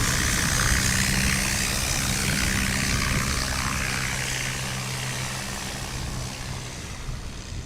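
A Cessna 170 at a STOL practice event in Creswell, Oregon roars loudly with a steady engine and propeller drone that slowly fades as the plane pulls away.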